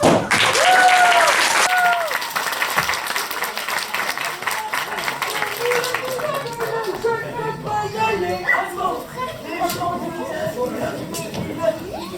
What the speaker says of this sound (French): Alors que l'aventure commence sous une vague d'applaudissements!